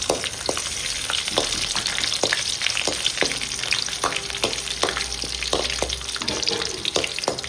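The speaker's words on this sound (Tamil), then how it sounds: "இப்போ எண்ணெய் காஞ்சிச்சு மசாலா ஐட்டம்லாம் சேர்த்துக்கோம்" Masala spices hit hot oil for a country chicken fry, giving a steady sizzle with frequent sharp crackles and pops throughout, close and continuous, with no voices.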